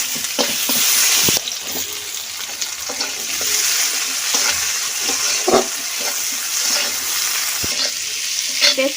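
Chopped onions fry in oil until browned, giving a loud, dense, continuous sizzle close by, broken by occasional scrapes and clacks of a stirring spoon against the pan.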